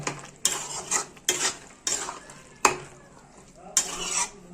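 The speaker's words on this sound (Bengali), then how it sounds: "এখন ভালো করে নেড়ে চেড়ে নেব" Chickpea curry with garam masala and a little sugar is stirred in a pan, with a spoon scraping and clanking against the metal in five or six distinct strokes over a low sizzle.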